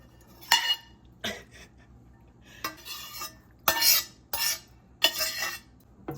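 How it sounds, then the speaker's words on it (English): Macaroni noodles with ground beef are stirred in a pot, a spoon scraping and clinking against the metal in several separate bursts with quiet pauses between, close by and moderately loud. "More stirring. All the noodles."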